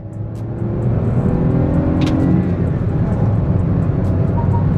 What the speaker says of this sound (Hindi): सबसे पहले कार को हाई स्पीड पे लेके चलते हैं